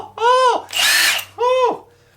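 A Milwaukee 1-inch cordless impact wrench runs close and loud: two high whining motor revs with a harsh, rattling hammering burst between them, then a quick wind-down.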